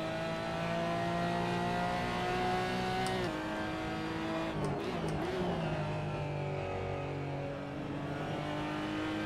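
Porsche GT4 engine in Assetto Corsa at Laguna Seca, a continuous roar under throttle, rising in pitch, with a sharp shift dip near the middle followed by a steady climb again.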